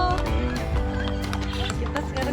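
Horse hooves clip-clop steadily during a ride at Puncak Gundaling, Berastagi, heard close under a dense bed of chatter and background noise, with a possible faint whinny.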